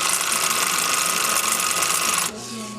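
A sewing machine runs steadily with a busy mechanical whir, then abruptly drops to a quieter hum near the end as the stitch length is changed; no one speaks.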